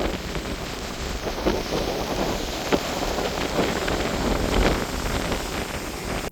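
Strong wind buffeting the microphone at a seaside campsite, a continuous roaring rush with gusts, surf faintly blended in.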